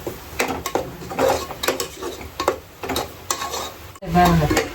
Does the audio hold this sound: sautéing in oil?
yes